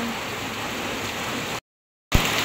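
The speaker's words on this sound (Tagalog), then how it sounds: "medyo po nalakas ang hangin tapos po nalakas po ang ulan" Heavy rain pours in front of a house and store as strong wind blows, a dense steady roar broken by a short gap of silence before resuming.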